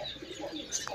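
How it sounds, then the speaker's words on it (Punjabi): A pigeon coos softly nearby, a brief low murmuring call with a faint chirp at the end, set against quiet outdoor background. "ਕਬੂਤਰ ਉੱਤੇ ਆ ਕੇ ਬੈਠ ਗਿਆ ਵਾ।"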